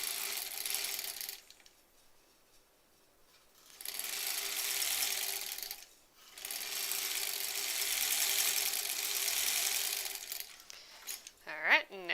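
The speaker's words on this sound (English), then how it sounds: "And then we will sew that seam." Sewing machine stitching a seam joining granny-square quilt blocks, in two long steady mechanical runs separated by a short pause, close by, with a brief voice at the end.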